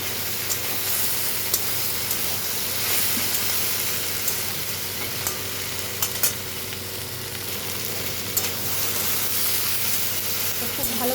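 Tomato sizzling in a hot pan of okra curry, a steady bright frying hiss with small crackles and pops the whole time, and faint stirring beneath.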